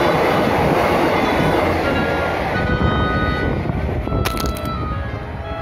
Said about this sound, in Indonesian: Kereta api Bandaraya dari Yogyakarta ke Kebumen.